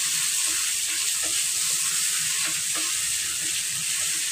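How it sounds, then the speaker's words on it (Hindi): Gram flour and spinach fry in a pan while being stirred steadily, giving a continuous close sizzle broken by regular scraping strokes of the spoon, with no talking. "और इसको हम अच्छे से चलाते चलाते भूजेंगे"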